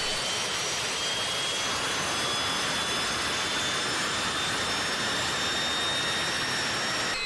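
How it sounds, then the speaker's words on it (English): A Viper Mk102 jet engine roars loudly and continuously with a broad rushing blast and thin high whines held on top, steady for the whole stretch with no voices. "Once fuel flow and ignition are introduced, the engine quickly accelerates to idle RPM."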